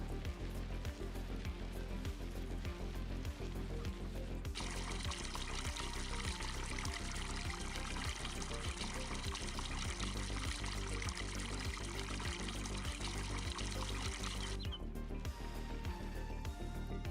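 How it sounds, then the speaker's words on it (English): Water pours steadily from a watering can onto a garden in Farming Simulator 22, a continuous splashing stream lasting several seconds over a ticking, rhythmic background. "Then we'll water our garden too."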